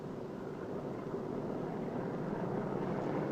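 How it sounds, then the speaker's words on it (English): B-29 bomber engine running on the ground before takeoff, a steady low droning rumble that holds even and fairly loud throughout, with no voices. "Next, start on the number 2 engine."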